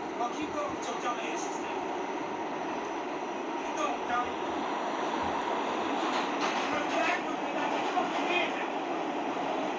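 A moving train rumbling loudly and steadily from close by, a continuous roar with faint rhythmic clatter, heard from on board and slightly muffled.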